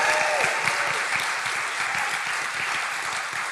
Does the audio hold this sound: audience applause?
yes